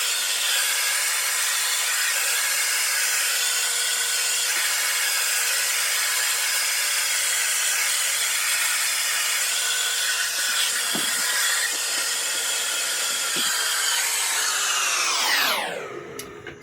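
A hair dryer blows hair in a loud, steady whoosh that runs unbroken for a long stretch, then winds down as it is switched off near the end.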